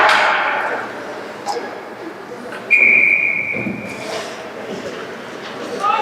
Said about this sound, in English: we're having another whistle in their zone